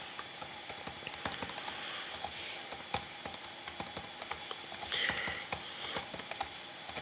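Steady keyboard typing as Python code is entered on a computer, with irregular clicking keystrokes and a few louder key hits, close and clear with no voices.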